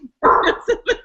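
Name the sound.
dog barking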